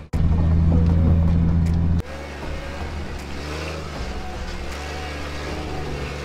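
A Jeep engine labouring up a big hill on the Hole in the Rock trail, a steady loud drone close by, dropping to a lower, rougher rumble after a gear change and holding steady under load.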